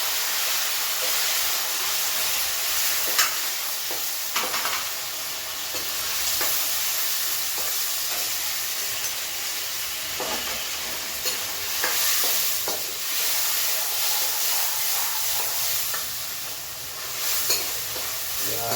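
Tomatoes with garlic being stirred and fried in a pan for sev tameta shaak, a continuous bright hiss and sizzle broken by occasional scraping stirs.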